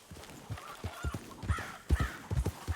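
Horse riding in the video game Red Dead Redemption 2, a faint rhythmic clip-clop of hooves trotting steadily with soft game ambience behind it.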